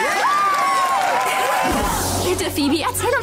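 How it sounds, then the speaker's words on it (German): A small group cheers and whoops loudly, with shouting voices and some clapping under lively talk, in a bright, close indoor scene from a children's TV comedy. "Sie verdient doch einen Applaus"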